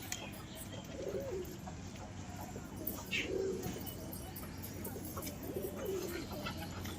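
A pair of Rosuni Biscuit breed pigeons coo in soft, low rounded phrases, three or so spaced across the stretch, over steady outdoor background noise and faint chirps.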